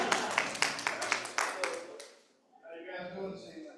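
A small audience at a vacation Bible school evening session claps in a short, loose burst that fades after about two seconds, followed by a voice speaking.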